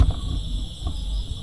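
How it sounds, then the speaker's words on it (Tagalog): Crickets chirp at night in dense, quiet woods near a tent, a steady high insect trill running throughout alongside low rumbling background noise. "Pero may marinig kang mga kuliglig."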